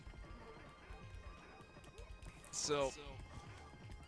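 A pony's hooves clip-clop in a quick rhythm in a video game, with a sharp whinny cutting in partway through, all under someone talking.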